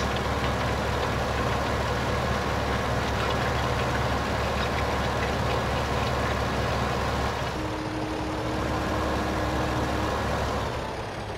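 Tractor engine running steadily in Farming Simulator on the Norgeholm map, a constant loud mechanical drone with a brief tonal whine partway through, no talking.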